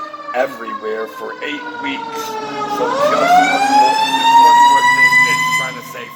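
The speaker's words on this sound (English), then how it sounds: "Sorry about the sirens." Emergency vehicle siren passing on a Detroit street, a wailing tone that climbs and holds loud before fading, heard under someone talking.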